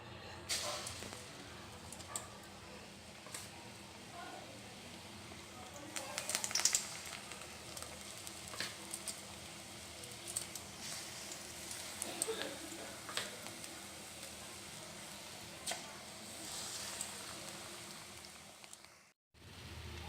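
Rava pakoda batter deep frying in hot oil over a medium flame makes a soft, steady crackle and bubble, fairly faint, with a few brief louder pops along the way.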